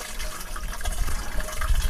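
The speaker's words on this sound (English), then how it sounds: "So I'm going to take my homemade shower that I made from this Ace weed sprayer. I'm going to fill it up" Cold water runs into a homemade camp shower built from an Ace weed sprayer, a steady splashing, gurgling fill close by with no talking.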